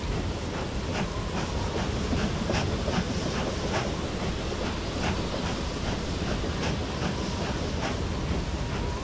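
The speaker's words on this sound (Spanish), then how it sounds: "Aquí está la locomotora, es una locomotora de vapor." A steam locomotive train in the Rolling Line model railway game clatters along with a steady, rhythmic clickety-clack of wheels over rail joints, close and continuous under a soft hiss of rain.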